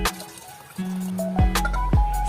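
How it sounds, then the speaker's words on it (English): Water is poured into a cooking pot of chicken, onion and tomato for sinigang, with close splashes, drips and a rising gurgle as the pot fills. "Add water."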